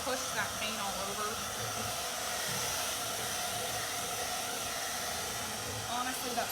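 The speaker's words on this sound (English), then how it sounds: "I don't want to get too close with my blow dryer because it'll push that paint all over." A hair blow dryer runs steadily to dry paint on a Halloween yard sign, a continuous airy whir and hiss, with a voice speaking faintly underneath.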